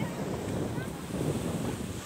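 Sea waves wash ashore at Kavilpatnam beach in a steady, continuous rush of surf, with wind buffeting the microphone throughout.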